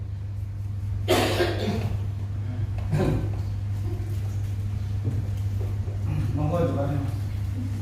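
A couple of sharp coughs break through a steady low hum, with faint talking and shuffling in between.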